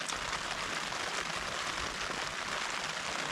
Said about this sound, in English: Hear the rain?